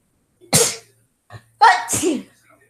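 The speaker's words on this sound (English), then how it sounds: "Right, sorry guys, I just sneeze." Two sneezes close by, the first a sharp burst and the second louder with a voiced tail, separated by a brief faint sound.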